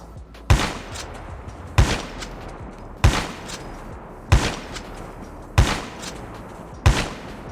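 Six evenly spaced shotgun blasts in Call of Duty Mobile battle royale, each a sharp loud crack with a short tail, about one and a quarter seconds apart over a low steady background.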